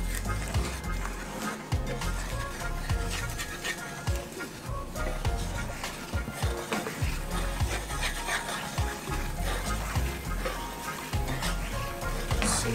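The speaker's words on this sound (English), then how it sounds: "Simmer just a little bit." Pork chops simmer in vinegar or apple cider in a pan, giving a steady close sizzle and bubbling that runs continuously, with occasional stirring and soft clatter underneath.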